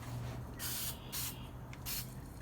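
Aerosol spray paint hisses in three short bursts as a light coat goes onto a restored antique Black and Decker valve grinder, close and steady over a low background hum.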